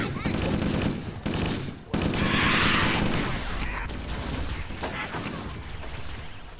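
Heavy gunfire rattles through a firefight in Halo: Combat Evolved. Rapid automatic bursts and blasts fill the scene, loud and close, with battlefield noise and voices mixed in.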